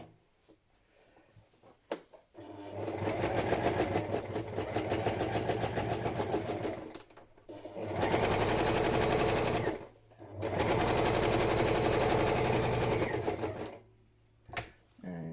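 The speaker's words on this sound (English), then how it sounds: "So, I'm going to sew this one on." A sewing machine stitches a padded patchwork journal cover, running in three long bursts of steady mechanical whirring, close and fairly loud, separated by brief pauses while the fabric is lifted and turned, with a voice speaking between runs.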